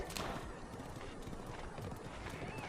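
A horse's hooves clip-clop at a steady run in the video game The Legend of Zelda: Breath of the Wild, a continuous, fairly loud patter of hoofbeats over a dense, noisy background.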